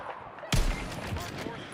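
A sniper rifle shot in the Star Citizen video game cracks out sharply at close range after near-silence, then rings on in a dense, noisy tail.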